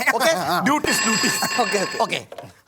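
A telephone rings with a steady electronic trill in the middle of a stage comedy skit, partly under voices that talk over it before and after.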